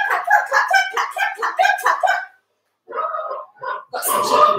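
Young children imitate chicken noises with a run of rhythmic, pitched clucking voices, then a short gap and more clucks and squawks, close and loud.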